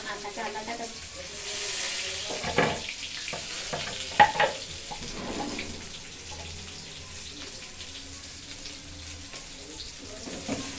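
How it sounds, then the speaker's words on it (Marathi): Onion sautés in a pan with cumin and mustard seeds and garlic, a steady soft sizzle and frying hiss with occasional stirring clatter throughout, with faint talk at times. "कांदा परतून घेताय"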